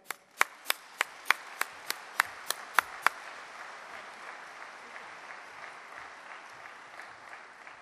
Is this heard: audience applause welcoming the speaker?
yes